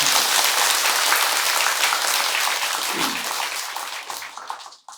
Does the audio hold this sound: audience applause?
yes